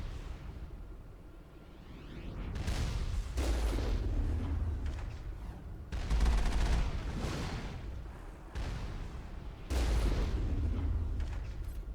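Gunfire in the Mass Effect video game, sustained rumbling bursts of shots and booming impacts that come in waves over twelve seconds, loud and dense with no clear pauses.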